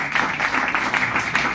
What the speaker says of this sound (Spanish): Así es que un aplauso para Abraham.